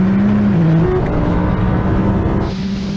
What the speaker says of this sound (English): We're going to have a rolling race, third gear.